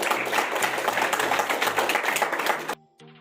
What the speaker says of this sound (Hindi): तो बहुत बहुत जोरदार तालियां।